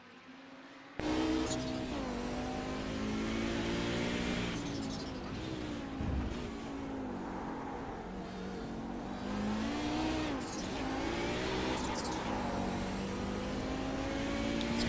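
Audi 90 GTO race car in a racing game at Daytona, its engine revving hard and bouncing off the rev limiter, a steady loud drone with pitch swells and shifts and no talk.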